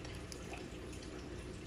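A liter of water pours into a pot of simmering beef stew, a short continuous splashing gush without any voices.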